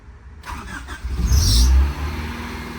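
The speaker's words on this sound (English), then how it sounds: "She fired right up as expected." A Honda Del Sol, just fitted with a repaired fuel pump, cranks and fires up loudly, the engine surging briefly before settling into a steady idle, close and alone.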